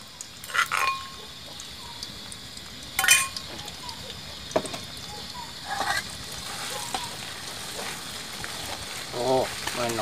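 Food fries in hot oil while a Thai red chili paste is being made, giving a steady close sizzle. Occasional metal utensil clinks and some talk sound over it.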